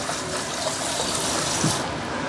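Tap water runs steadily over cooked prawns to cool them, a continuous close gush and splash with a small bump partway through.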